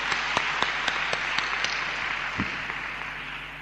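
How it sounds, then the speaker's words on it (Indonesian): Church congregation applauding a visiting pastor from Romania at an Indonesian service, a moderate burst of clapping with a few sharper individual claps early, fading toward the end. "Mari beri tepuk tangan."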